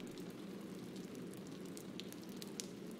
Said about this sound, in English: It's raining on the snow.